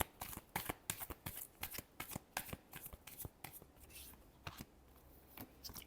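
Tarot cards are shuffled by hand in a quick, soft run of crisp riffling flicks and slaps, close and quiet, with no talk.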